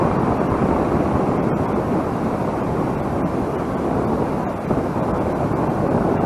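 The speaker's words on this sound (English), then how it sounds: "It's the sound of the water breaking on the reef." Ocean waves breaking on a rocky reef at Montana de Oro, a loud continuous roar of surf like a passing jet, with no talk.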